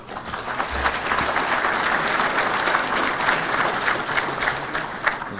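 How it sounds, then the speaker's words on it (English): An audience at a Georgia cotton awards ceremony gives the sponsors a round of applause: a steady, even wash of many hands clapping, fairly close, lasting the whole stretch without speech. "So if we could give all our sponsors a round of applause."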